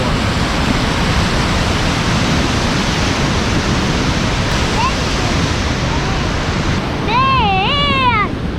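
Water rushes steadily over a spillway at a yellow bass fishing spot, a loud, dense, continuous roar filling the whole stretch, with a few faint bird chirps rising over it near the end.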